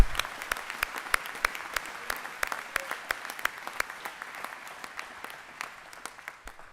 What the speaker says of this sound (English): We've given them a round of applause, but let's give them one more for the stars of our ceremony, the class of 2025.